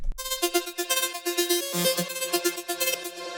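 Synth lead in a future rave drop, processed with reverb and delay and with automated release time, playing a quick rhythmic melody of short plucked notes with a bright tail, moderately quiet and without voices.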